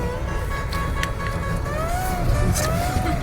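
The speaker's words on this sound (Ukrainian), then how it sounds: "Машина їде." A Seat car drives over snow on a winter road, its engine a steady close rumble with a rising tonal whine partway through.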